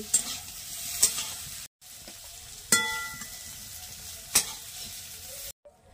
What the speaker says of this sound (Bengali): ওই তেলে আলুগুলো ভেজে নেব